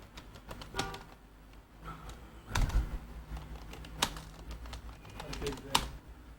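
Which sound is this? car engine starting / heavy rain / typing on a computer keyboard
typing on a computer keyboard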